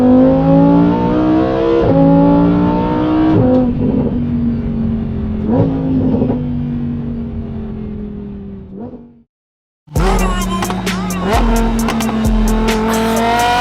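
A 640 hp rear-wheel-drive car's V10 engine drones loudly at high revs, rises and falls through several gear shifts, then cuts to brief silence before roaring back with sharp throttle blips.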